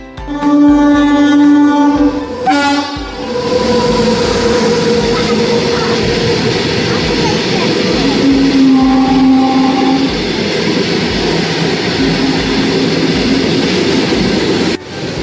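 A train arriving at a station on the route from Anand to Baroda opens with a loud horn blast, then a heavy, continuous rumble and rattle of carriages rolling in close by.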